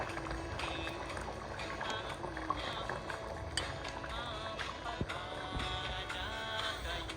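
Sticky rice for arroz caldo with chicken simmers in a pot over low heat, giving a steady, close bubbling and gentle liquid churn with occasional clinks, and no talk over it.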